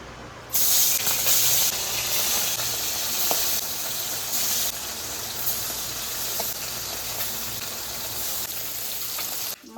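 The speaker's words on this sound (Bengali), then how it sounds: "তেল গরম হয়ে গেছে এবার বাটা মাছ ছেড়ে দেবো" Bata fish rubbed with turmeric and salt drops into hot oil in a kadai, setting off a loud, steady sizzling hiss that starts abruptly and runs unbroken to the end, close and with no voices.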